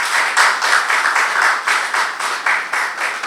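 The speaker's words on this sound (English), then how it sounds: "You clap for him." Audience clapping at the launch of the 2023 National Teacher Prize by the education minister, loud, close rhythmic applause with pulsing clusters of claps, steady throughout.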